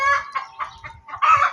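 Farmyard chickens clucking in short, uneven bursts close by, ending in a louder, drawn-out crow-like call, with no talking.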